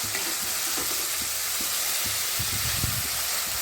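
Tomatoes and onions fry in oil for a Telugu prawn curry, giving a steady, close sizzle with a dense hiss and occasional soft bubbling pops throughout.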